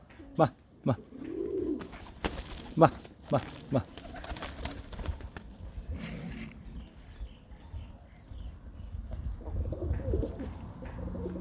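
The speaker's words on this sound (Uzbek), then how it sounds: "Mana ukalar kaptarlar." Pigeons coo softly around a pigeon coop, low murmuring calls scattered among brief taps and rustles, with someone speaking nearby at times.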